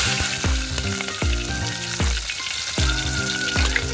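Steady, loud sizzling of onions frying in hot oil after tempering seeds, with repeated low knocks and scraping as a pan is stirred close by.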